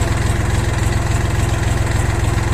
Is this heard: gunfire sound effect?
no